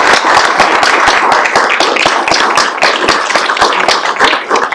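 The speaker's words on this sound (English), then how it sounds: "Let's give a good applause." A city council meeting audience in Chattanooga claps steadily in a dense, close round of applause that keeps an even loudness from start to finish.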